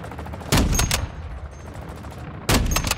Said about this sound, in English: why are they both all shooting at me